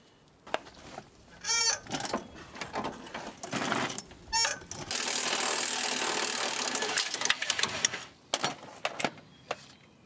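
An impact gun hammers at an old, stubborn bolt on a 1970 engine being rebuilt. Short rattling bursts are followed by a long, loud, steady ratcheting run, then scattered clanks nearby.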